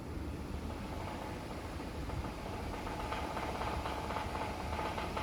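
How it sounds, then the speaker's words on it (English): A running Honda J35 V6 engine rumbles steadily at low volume, with a faint repetitive knocking and rattling from crank walk that grows slightly more noticeable toward the end. "You heard that little knocking, clicking sound? It's basically crank walk."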